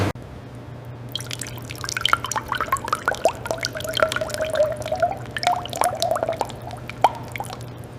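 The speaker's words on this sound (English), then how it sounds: "the rim moves into a high-pressure water rinse zone. Clean water flushes away all remaining chemicals" High-pressure clean-water rinse of motorcycle rims in a rim factory after chemical washing: steady hiss and spatter of spray with dripping and splashing over a constant machine hum, close and moderately loud.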